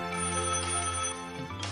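A mobile phone rings with a bright, steady electronic ringtone melody, loud and close with no voices over it.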